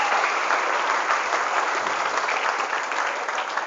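Students at an Islamic boarding school, Pesantren Al-Ma'arif in Serang, clap together in a dense, steady round of applause that stays loud and even throughout, with no pause.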